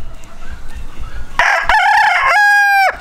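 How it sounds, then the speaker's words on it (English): An old rooster crows once, loud and close, the call rising and then holding a long tonal ending over a background of farmyard noise. "The rooster is getting old."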